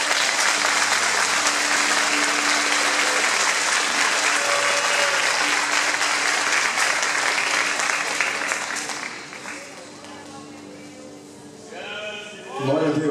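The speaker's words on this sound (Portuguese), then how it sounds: "aplauda ao Senhor, queridos." A church congregation applauds in praise during a worship service, dense sustained clapping that fades toward the end as a voice and other sounds emerge.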